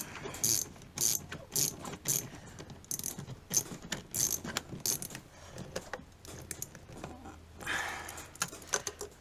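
A ratchet clicks rapidly in close, repeated bursts while tightening the inlet clamp on a 2001 Toyota Prado's air intake, with short pauses between strokes.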